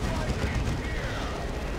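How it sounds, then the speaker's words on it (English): Fire prisms and D-cannons blasting away in Dawn of War 2, a dense, continuous roar of overlapping weapon fire and explosions with no pause. "Just all the fire prisms and D-cannons constantly blasting away at everything."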